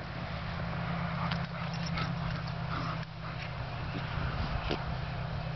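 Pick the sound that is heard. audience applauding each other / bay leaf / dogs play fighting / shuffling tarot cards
dogs play fighting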